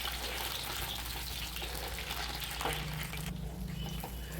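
Eggplant sautés in sesame oil in a pan with a continuous close sizzle and crackle, briefly shifting as the pieces are stirred.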